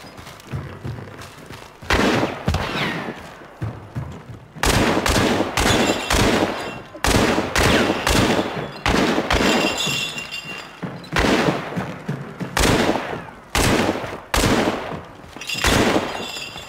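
Heavy gunfire rattles through a Hunt: Showdown match as repeated loud bursts are sprayed into a house. The bursts come close and sharp with brief gaps between them and some breaking glass.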